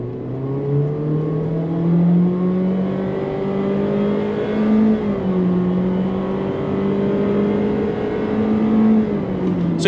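A 2023 Honda HR-V in sport mode accelerates hard from inside the cabin, its engine drone climbing steadily with brief dips at the simulated gear shifts, loud and continuous.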